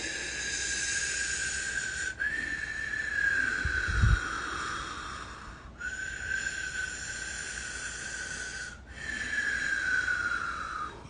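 Ocean-like breathing exercise done during an ice bath challenge: long, airy breaths with a hissing, whistling edge, three slow cycles rising and falling like waves, steady and close, with no talking.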